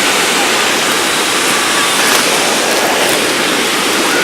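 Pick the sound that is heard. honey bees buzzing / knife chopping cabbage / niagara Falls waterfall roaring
niagara Falls waterfall roaring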